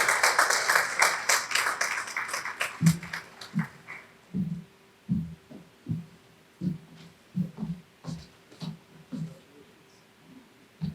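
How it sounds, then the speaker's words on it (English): An audience claps at an academy graduation ceremony in a dense burst lasting a few seconds. The applause then gives way to a regular, low, thumping musical beat. "Please give a resounding round of applause to Umadevi Etwaru."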